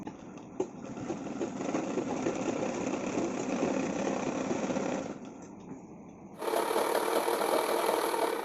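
A sewing machine runs continuously while stitching a chudi pant, a steady close whirring drone that eases briefly before resuming at a higher, brighter pitch.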